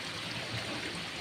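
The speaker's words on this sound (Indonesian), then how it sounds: "Tuh bisa dilihat airnya harus mengalir" Water flowing steadily into a giant gourami breeding pond, a soft continuous trickling wash, faint and unbroken with no voices.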